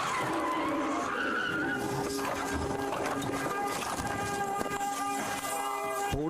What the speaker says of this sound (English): Border Patrol agents and this white truck crashing into a red SUV Tuesday morning